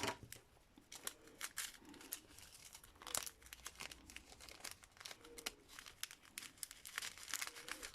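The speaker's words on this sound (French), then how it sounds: "Juste faire attention de ne pas couper trop près pour éviter de percer le sachet." Scissors cut open a plastic diamond painting sachet in quiet, close snips mixed with light crinkling of the plastic, repeating irregularly throughout. No talking.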